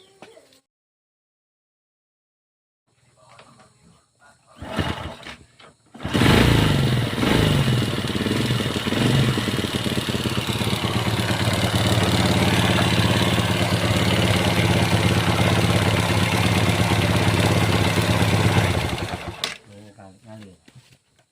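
A Honda Supra Fit New motorcycle engine, after a timing chain replacement fixed its noise, starts and idles steadily for over ten seconds, a smooth even putter, close by, then cuts off.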